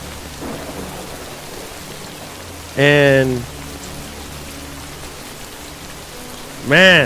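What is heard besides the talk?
rain in a video game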